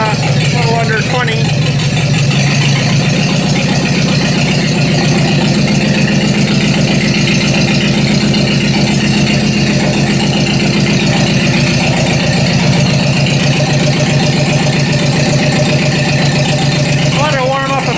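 Ford 2N tractor engine idling steadily while it warms up, a loud continuous low chug with some rattle, while someone talks intermittently over it.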